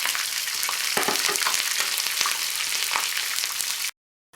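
Green chillies frying in hot oil for a dal tadka, a steady loud sizzle with light stirring clicks, then cutting off abruptly near the end.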